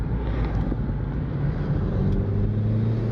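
A turbocharged Honda Civic R18 carries through a corner, heard from inside as a steady low engine hum with road and wind rumble, rising slightly toward the end with no talk.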